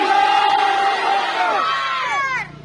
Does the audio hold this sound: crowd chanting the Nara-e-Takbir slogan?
yes